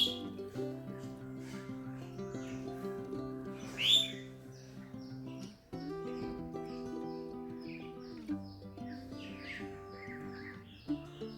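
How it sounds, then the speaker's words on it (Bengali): Birds call around a house with flowering plants in the morning. A few faint chirps stand out, one sharper call near the middle, over a steady low tonal hum, with no talking. "আর সকালে উঠেই এরকম পাখির ডাক শুনতে পারবেন আপনারা।"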